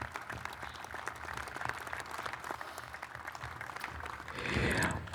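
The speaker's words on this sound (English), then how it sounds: "So I'd like to give a round of applause for the Eagle Project Committee." Audience at an eagle sculpture dedication claps for the Eagle Project Committee, a fairly faint, steady patter of many hands that swells briefly near the end.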